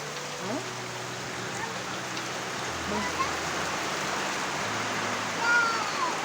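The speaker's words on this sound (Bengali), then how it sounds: "দেখে দেখুন বৃষ্টি পড়ছে" Steady rain hisses down in a broad, even wash during a stormy day, with some faint low tones underneath and no voices.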